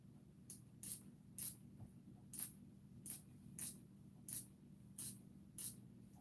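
A spray bottle spritzes alcohol ink onto a tumbler in a string of about nine short, crisp hisses spaced roughly half a second apart, quiet and close over a faint background hum.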